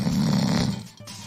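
A cartoon ogre snores loudly in a French fairy tale animation, one deep rasping snore that fades out at the end.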